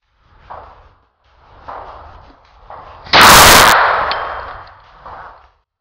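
A single loud .22 rifle shot rings out sharply and alone, trailing a short fading echo, set amid a few soft scuffs and rustles at an outdoor shooting spot.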